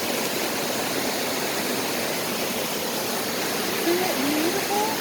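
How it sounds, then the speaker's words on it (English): Small waterfall at Lindeman Lake, a steady broadband rush of falling water filling the whole clip at close range, with faint brief voice-like tones near the end. "that's the falls. That's the water that goes down."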